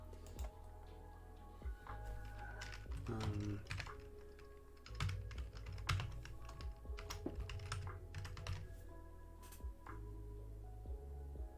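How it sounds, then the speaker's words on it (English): Typing on a computer keyboard, with quiet, rapid clicking keystrokes in uneven bursts over a low background hum, heard faintly and close. "So I might just have to type it in manually"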